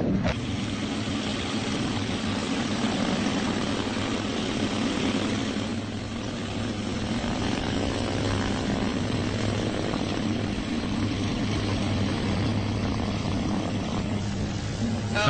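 Steady, loud propeller aircraft engine drone at full power during a test flight, a continuous low hum with a buzzing tone layered over broadband roar, constant throughout with no talk.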